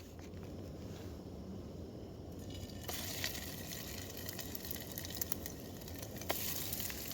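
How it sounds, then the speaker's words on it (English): Steady crackling sizzle of food frying over a campfire in a Scottish forest, with soft popping and spitting, close and continuous without talk. "right now it's sizzle time."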